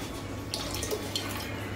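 Red Label wine trickles from a bottle into a homemade sorrel drink, a soft continuous liquid pour with a few light splashes and drips, close up and fairly quiet, with no talking.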